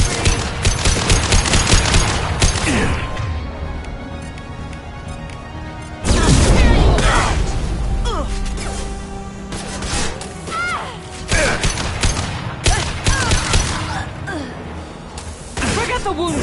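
A Mass Effect 2 firefight with rapid automatic gunfire, heavy bursts and impacts rising and falling over about sixteen seconds, with a big blast midway and voices calling out amid the shooting.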